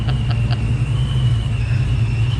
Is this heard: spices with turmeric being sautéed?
no